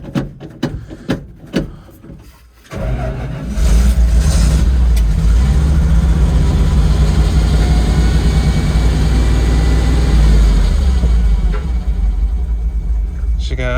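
An old junk car engine being coaxed to start: a few sputtering coughs, then it catches and settles into a loud, steady low idle rumble that continues to the end.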